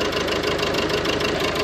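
Piezo-injector car engine running with an ignition misfire, a steady loud mechanical drone with an uneven, stumbling knock throughout and no talk.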